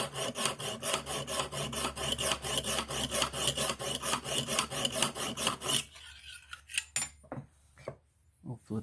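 A Rough Ryder knife blade is sharpened with a Lansky guided system, close rhythmic rasping strokes of stone on steel in a steady back-and-forth pattern, then a pause broken by a few scattered scrapes and clicks.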